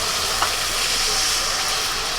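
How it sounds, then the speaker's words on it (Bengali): Water is poured into a pan of spice masala that has been frying for a Bihari egg curry, producing a steady, close, loud sizzle and hiss that carries on evenly throughout, with no talk. "এবার জল দিয়ে দিচ্ছি।"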